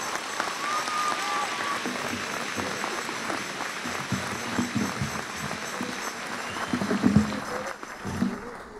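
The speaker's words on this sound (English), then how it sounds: "Un applause for them." Applause from a church gathering welcoming an archbishop in Colorado, honoring the priests present, moderate clapping rising and swelling toward the end with some crowd noise underneath.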